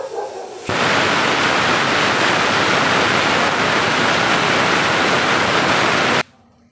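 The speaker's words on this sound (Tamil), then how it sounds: "விசில் வந்துருச்சுங்க நம்மளுக்கு." A pressure cooker whistle erupts while fenugreek rice cooks, a loud continuous steam hiss that starts abruptly, holds steady for several seconds and then cuts off sharply, close by with no talking over it.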